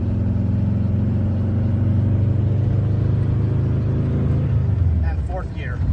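A car with a 12-inch Vintage Speed quick shifter accelerates through the gears, its mid-pitched engine droning steadily and then dropping away as it shifts, heard close and loud, with a voice talking over it.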